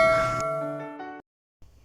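A bright notification bell ding plays as a sound effect, a single clear ringing tone that decays smoothly and cuts off, then a short low sound follows after a brief silence.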